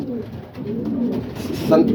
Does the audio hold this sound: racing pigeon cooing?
yes